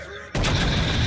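A battleship's heavy guns fire in the naval combat game World of Warships. After a quieter lead-in, a sudden loud, broad blast erupts and rolls on to the end.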